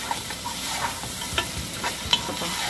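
Onions stirred with spices in a frying pan, a close steady sizzle broken by several sharp scrapes and taps of a spoon against the pan.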